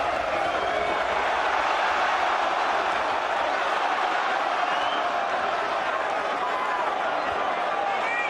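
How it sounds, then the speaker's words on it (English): Crowd in a boxing arena at a Froch versus Kessler fight, a continuous thunderous roar of cheering voices echoing around the venue, with a commentator talking over it. "Thunderous noise reverberating around this arena."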